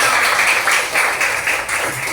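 A classroom of students clapping together in applause, a steady dense patter of many hands lasting a couple of seconds, loud and close.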